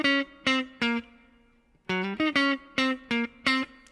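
Guitar playing the main riff of a song, a run of clean, sharply plucked notes in a bouncy rhythm with sliding pitch changes, played alone and close with no talking.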